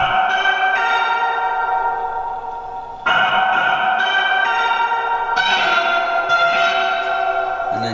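A reversed music clip pitched up, heard as one dense layered tone with swelling sustained harmonics and abrupt re-entries around the third and fifth seconds, loud and steady throughout with no voices.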